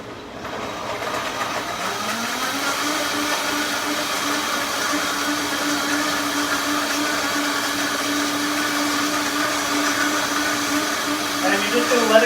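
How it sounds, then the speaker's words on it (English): A blender crushing ice cubes and frozen fruit runs steadily at high speed for several seconds, a loud continuous whirring grind with a rattling edge, with no voices. "let it go, kind of listening, make sure that the ice cubes and the frozen fruit get nice and blended"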